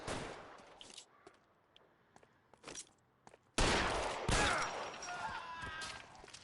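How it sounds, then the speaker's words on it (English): Gunshots in LA Noire: a few sharp, scattered pops at first, then one loud blast followed by sustained, dense firing and echoing reverberation that slowly fades. "shooting him in the back"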